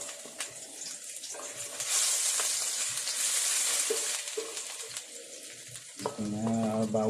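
Ginger sautéing in a little oil for a chicken vegetable stir-fry, a soft steady sizzle with faint stirring clinks, swelling slightly, before a brief tonal sound at the end.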